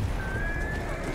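A horse in Battlefield 1 gives a brief whinny, a thin high rising-and-falling cry over a dense rumble of battle noise and hoofbeats.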